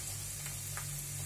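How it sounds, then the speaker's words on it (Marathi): Green chillies and curry leaves sautéing in hot oil in a pan for Diwali poha chivda, a steady close sizzle with a couple of soft stirring scrapes. "हे सगळं मिश्रण मला व्यवस्थित परतून झाल्याच्या नंतर"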